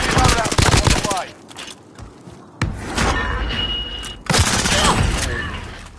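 Video game gunfire comes in rapid bursts of sharp shots: a loud volley at the start, scattered pops through a quieter middle, then two more sustained bursts, with brief voices heard among the shots.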